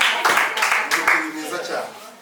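An audience at a film cast celebration claps for an actress, a loud burst of dense applause that swells and then gradually thins out, with voices mixed in.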